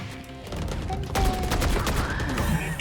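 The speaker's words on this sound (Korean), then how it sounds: "와 근데 피닉스 잘 쏜다" Rapid bursts of gunfire from the video game Valorant, dense fusillade-like shots crackling loudly and close across the whole span, with some game effects mixed in.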